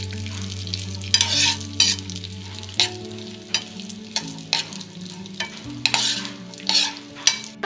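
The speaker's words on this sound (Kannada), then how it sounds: "ಬಾದಾಮಿ, ದ್ರಾಕ್ಷಿ, ಇವು ಸ್ವಲ್ಪ ಫ್ರೈ ಆಗಲಿ." Almonds and raisins frying in a pan, a steady close sizzle broken by repeated bursts of scraping and stirring, with no voices.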